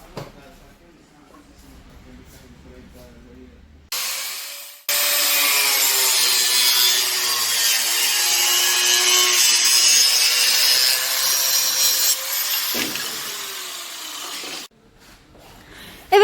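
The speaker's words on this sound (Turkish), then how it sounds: "Arka tarafta fazlalık kalan kısmı da kesiyorsunuz" A cutting tool trims excess body kit material on a Honda Civic FD6 fitted with a Mugen RR-style kit, a loud sustained rasping, sawing run of about ten seconds with quieter workshop sounds and a voice before and after.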